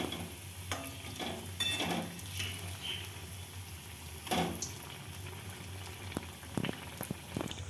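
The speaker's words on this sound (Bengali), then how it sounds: "এরপর আমি চপগুলো ভেজে নেব।" Vegetable chops, potato pieces dipped in batter, frying in hot oil with a steady crackling sizzle throughout, and several sharper bursts of spatter as pieces go in or are turned.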